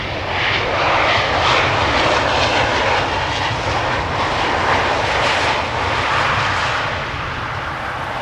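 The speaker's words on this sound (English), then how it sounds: "KLM 737-800 arriving from Birmingham," A KLM Boeing 737-800 arriving from Birmingham touches down at Amsterdam Schiphol, its engines giving a loud, steady broadband roar that holds evenly throughout and eases only slightly near the end, with no voices.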